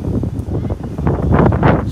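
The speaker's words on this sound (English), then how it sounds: "It's just a little bit windy as well." Gusty wind on the Torrevieja beachfront buffets the microphone in low, rumbling bursts, growing stronger toward the end.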